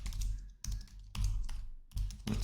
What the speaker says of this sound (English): type some sample text here